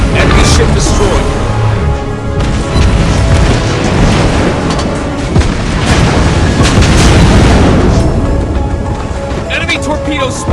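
Heavy booming explosions and a continuous rumbling roar as an enemy ship is destroyed in the naval battle game World of Warships, loud and dense throughout with bursts layered over constant battle noise.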